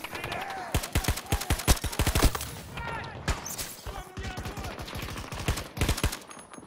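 Rapid bursts of suppressed automatic gunfire in the game Battlefield 2042, sharp repeated shots in quick clusters with brief gaps, loud and close over constant background battle noise.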